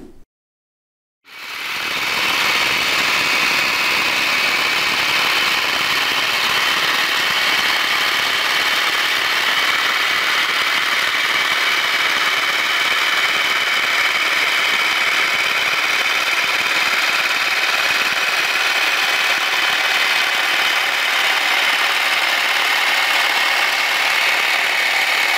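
A motorized cutting machine trims a tray of wheatgrass on a city farm, starting up after a brief silence and then running as a loud, steady whirring drone for over twenty seconds.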